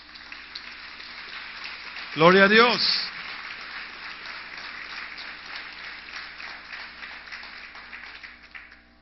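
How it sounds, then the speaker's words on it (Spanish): Steady applause from a church congregation fills the room, continuing throughout, while a preacher briefly calls out in Spanish over it near the start. "Dale un aplauso a Dios."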